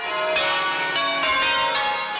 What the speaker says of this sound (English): Each bell ringing out vibrations as large and prominent in exhibition and arrangement as the building they are broadcast from.